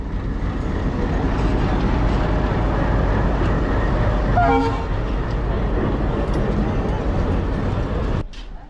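Broad-gauge commuter train at Joydebpur station during an engine change, a continuous loud rumble with a brief horn toot near the middle and an abrupt stop near the end.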